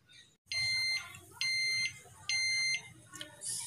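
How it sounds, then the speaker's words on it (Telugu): An electric pressure cooker's timer signals the end of cooking with three loud, evenly spaced electronic beeps, each lasting about half a second, over a quiet room. "ఈ టైం అయిపోయిన తర్వాత మనకి బీప్ బీప్ అనే సౌండ్ వస్తుంది."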